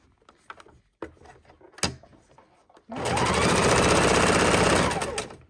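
A sewing machine stitches a fabric tote bag, first a few short clicks and taps, then a loud, steady run of rapid stitching lasting a couple of seconds before stopping.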